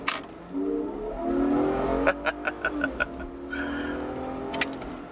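A 2004 BMW 325i sedan pulls away from a stop on a semi-residential street, its engine note rising steadily as it accelerates through a shift, with a few sharp ticking clicks midway, heard close from inside the car.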